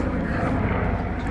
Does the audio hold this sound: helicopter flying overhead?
yes